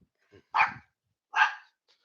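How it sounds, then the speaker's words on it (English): Dogs give two sharp, loud barks about a second apart, close by, with a faint yip before and after in an otherwise quiet room. "Just the dogs, guys."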